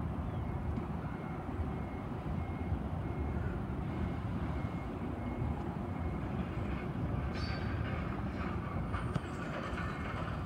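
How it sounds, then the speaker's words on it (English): An eight-car train in Queens, New York rumbles past steadily with a broad roar of wheels on rails, faint squeals and clatter near the end, no voices. "this is going to be my last train before I head home."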